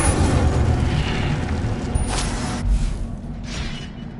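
A burst of spell effects from the Hogwarts Legacy video game, an Incendio fire spell: loud continuous rumbling whoosh with low booming swells, fading slightly toward the end, no talk.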